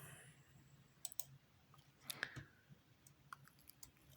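Faint, scattered clicks of a computer mouse during work in pipeline design software, a few sharp isolated taps over a quiet, hissy room.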